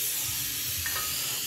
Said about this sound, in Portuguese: Coloquei a margarina, vou deixar ela dar uma derretidinha.